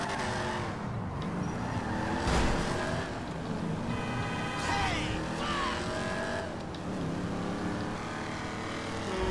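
Car engine in Grand Theft Auto V gameplay, a steady revving drone with rising and falling pitch as the car accelerates and shifts, layered with game sound effects and music throughout.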